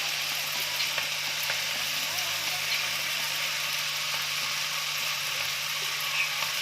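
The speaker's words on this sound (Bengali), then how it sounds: "এবার আমি অ্যাড করে দেবো এই যে সেদ্ধ করা গুগলিটা।" Boiled periwinkle snails sizzle steadily in a hot pan during village-style cooking, a close, continuous frying hiss with no pauses, carried over a faint low hum.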